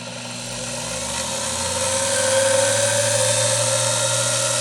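The upgraded US-made motor on a Grizzly G0781 mill spins up and runs with a steady, loud, high-pitched whine and hum, rising slightly in pitch as it comes up to speed, with no talk.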